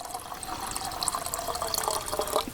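Half a litre of water pours steadily into a cooking pot, a continuous bright splashing stream at moderate volume with no talking.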